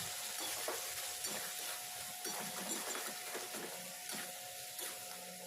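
Spice paste with turmeric, salt and green chilli paste sizzles and fries in a pan while being stirred, a steady close crackle with faint scraping and no talk.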